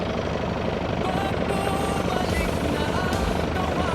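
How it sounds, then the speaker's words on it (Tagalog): A camera drone flies closer near a boat in Pampanga, its rotors producing a loud, steady buzzing whir that fills the whole stretch. "Papalapit na po ang ating drone."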